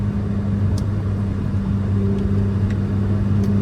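A Ferrari 849 Testarossa on track at Sonoma Raceway produces a loud, steady engine drone with a strong low hum that rises slightly as the throttle opens, with no talking.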